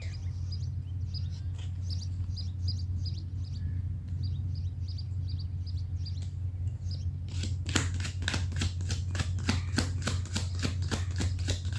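Tarot cards being shuffled and drawn from a deck, a run of quick crisp card flicks in the latter half following faint chirping, all over a steady low hum.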